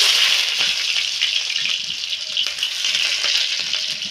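A bay leaf with whole garam masala and whole cumin frying in hot oil for a vegetarian Bengali dhokar dalna. A steady, fairly loud hiss of sizzling runs throughout, with small crackles and no voices.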